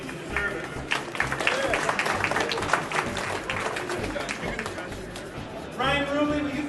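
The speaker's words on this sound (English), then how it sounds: "Give yourself a round of applause." Audience applause at the 2013 West Michigan Gaming Convention, a sustained patter of clapping from a crowd, with talk rising over it near the end.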